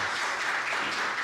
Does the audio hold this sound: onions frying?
no